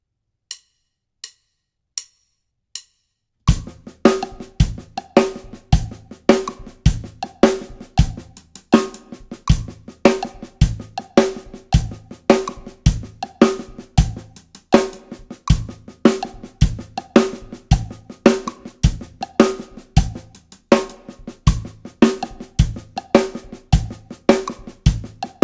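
A drum kit plays a steady groove: a few sparse hits open, then hi-hats tick continuously over kick and snare, with accented snare strokes and paradiddle sticking, crisp and close with no voices.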